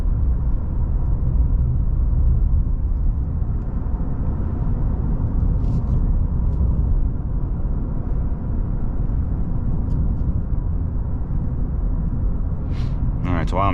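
A Ford Lightning electric pickup truck driving in normal mode, heard as a steady low road and cabin rumble that runs unbroken throughout, with a few faint high clicks near the end.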